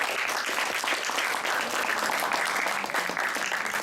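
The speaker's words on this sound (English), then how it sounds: "Please give a round of applause for them." Steady, dense applause from an audience at an English academic program event in a hotel, a continuous crackling wash of many hands clapping throughout with no pauses.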